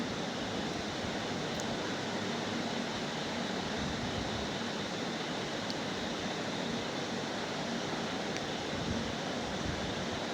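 Spice-coated broiler chicken pieces fry in hot oil with bay leaf, dried chilli, cinnamon, clove and cardamom, an even, faint hiss that stays constant throughout with no speech.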